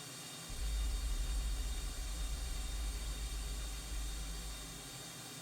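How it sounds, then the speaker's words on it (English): A small twin-engine plane's left engine runs after starting, a steady low droning rumble that holds at an even level with a faint broadband hiss over it. "The left engine starts and not the right."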